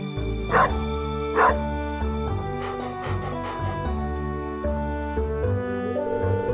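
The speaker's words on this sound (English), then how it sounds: "You see this dog here?" Dog barking in the Stardew Valley video game: two sharp close barks early on, then softer yips and whimpers, all over a steady backdrop of game music.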